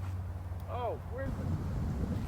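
Wind buffets the microphone on an outdoor disc golf course, a steady low rumble throughout while people talk briefly over it.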